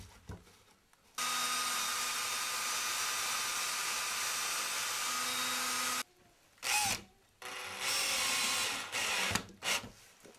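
A power drill drives screws into a plastic downpipe while building a hand-dredging sucker pump, with one long steady whine followed by several shorter bursts separated by pauses, close and loud, with no speech.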